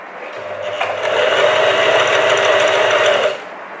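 A sewing machine stitching a bar tag at the bottom of a buttonhole runs in a loud, steady rapid whir for about three seconds, then stops abruptly.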